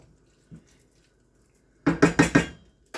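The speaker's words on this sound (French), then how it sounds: "je mélange tous mes légumes" Vegetables are stirred in a cooking pot, with a quick run of four scraping, clattering strokes of utensil against pot after a near-silent start and one faint knock.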